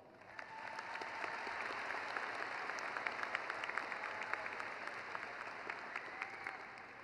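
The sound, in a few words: applause for a graduation speaker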